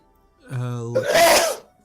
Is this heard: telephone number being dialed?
no